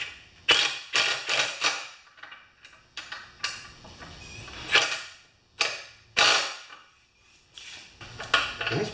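Impact wrench working on the bolts of an aluminium Homelite lawn mower, a series of sharp, close rattling bursts and clicks in irregular short spurts with quiet gaps between them.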